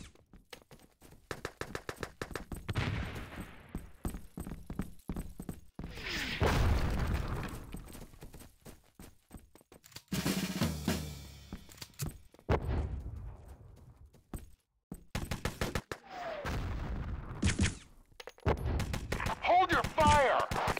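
Gunfire in the video game ET: Legacy crackles in rapid bursts and scattered single shots, loud and near, with automatic fire, booms and game voice lines between volleys.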